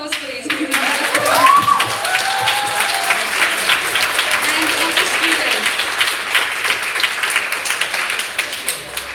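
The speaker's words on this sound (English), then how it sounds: "Can we get a round of applause, please?" A crowd at a school showcase event applauds with sustained, dense clapping that holds steady throughout, loud and close, with a few cheers or voices rising early on.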